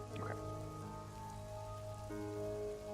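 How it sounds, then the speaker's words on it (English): Steady rain falls as an ambient effect in the tabletop game Toypocalypse, a constant faint hiss of drops on a surface running under sustained background music tones, with no speech. "waiting for the rain to pass. It just seems to get worse though"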